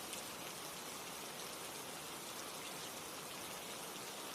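Steady rain falls in an unbroken, even hiss of many drops, soft and constant with no other sounds.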